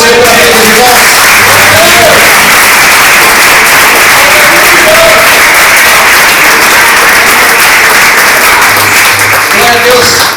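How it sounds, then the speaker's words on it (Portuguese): A church congregation applauds during a Portuguese-language sermon, with loud, dense, continuous clapping that fills the whole stretch and voices faintly mixed in. "vamos aplaudir o Senhor para eles, irmãos"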